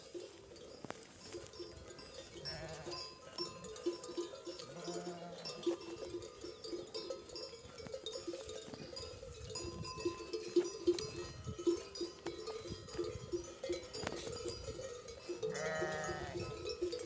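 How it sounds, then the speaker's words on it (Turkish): Sheep bleat in short bursts at a few points, set against the steady clanking of cowbells from a herd of livestock at pasture. The animal sounds stay fairly distant and fill the scene with no talking. "Koyun, geçi, inek."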